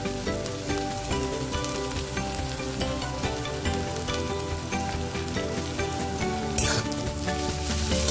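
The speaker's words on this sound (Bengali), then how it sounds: "যে রসুন থেতোটা দিয়ে দিচ্ছি" Crushed garlic drops into overheated oil in a kadai while a Bengali tangra fish chochhori is cooked, giving a steady, loud, close sizzle and crackle that lasts the whole stretch without a break.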